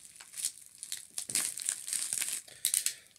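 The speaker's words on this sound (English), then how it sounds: "So I'm just going to rip right into this." A merch package holding a T-shirt and CDs is torn open by hand, giving close, continuous crinkling and ripping of packaging in several bursts, with no talking.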